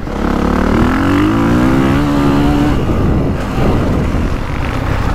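A 2025 Honda CRF450R dirt bike ridden on a motocross track, its engine roaring loudly and steadily with a rising pitch through the first few seconds, then a brief dip before it pulls again.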